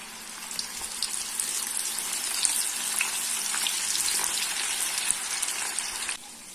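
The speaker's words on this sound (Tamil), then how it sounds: "எண்ணெய் நல்லா ஹீட்டாக இருக்கணும் இப்போ நம்ம எடுத்து அப்படியே ஊற்ற மாதிரி" Mushroom pakoda batter dropped into hot oil sets off a steady, bright, hissing fry that stays close and even, with small crackles, then drops off slightly near the end.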